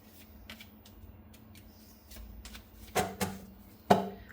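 Tarot cards shuffled by hand: quiet soft riffles and rustles, ending in a few sharp, distinct card snaps close by, with no talk.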